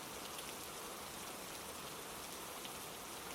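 Steady rain falls outdoors, a dense even hiss of drops spattering on surfaces, close and continuous throughout with no voices.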